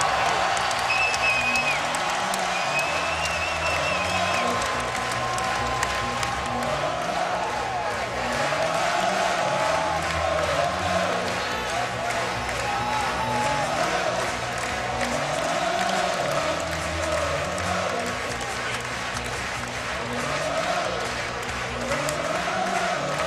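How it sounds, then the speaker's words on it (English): Loud basketball arena crowd cheering and roaring at a college game between Kansas and Iowa State, sustained and dense throughout, with an announcer's voice talking over it. "Listen to the crowd now."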